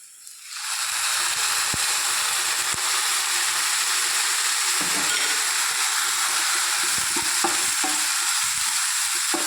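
Chopped brinjal with salt stirred in a hot pan: a loud, continuous sizzle and hiss that starts abruptly and holds steady, with occasional scrapes and clinks of the utensil against the pan.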